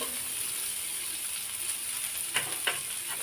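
Onion frying lightly in a pan, a close, steady hiss of sizzling oil with two brief scraping stirs near the end.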